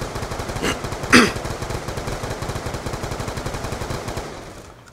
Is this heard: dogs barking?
no